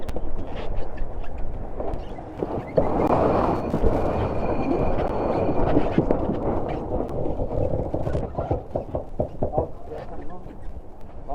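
Aboard a Stewart 34 sailboat racing at night in Auckland, New Zealand, a steady wash of wind and water rushes past with knocks and thumps from the boat, while crew voices talk throughout.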